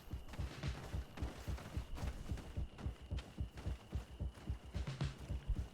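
A deep, throbbing heartbeat from a Greedfall stealth section repeats in a fast, insistent rhythm of paired thumps, sitting over a thin steady tone with no voices.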